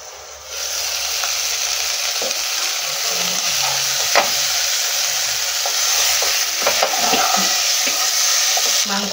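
Chicken legs fry covered in a small amount of oil, producing a loud, steady muffled sizzle with occasional soft clicks and stirring taps, with no talking.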